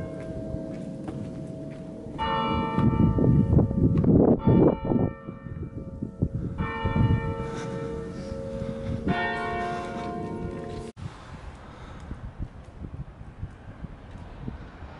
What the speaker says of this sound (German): Und da sind die passenden Glocken dazu.